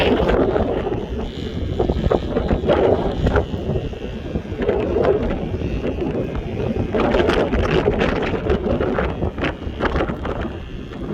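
Strong sea wind buffets a microphone near a bamboo buffalo kite flown by the shore, a steady loud roar with gusty rumbling bursts throughout.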